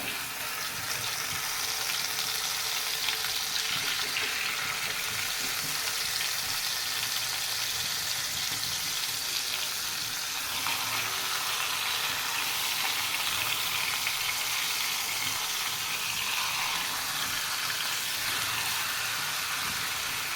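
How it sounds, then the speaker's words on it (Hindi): Marinated chicken leg pieces frying in oil on a tawa give a steady, dense sizzle that fills the whole stretch without pause, close and constant with no voices. "तो अब इसमें तवा चिकन पीस जो है वो अच्छी तरह से मैरिनेट किया हुआ वो डाल देंगे।"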